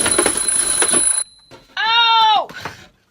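A homemade engineered alarm clock rings with a loud, steady tonal electronic beep for about half a second, close by, after a burst of noisy clatter and short vocal sounds.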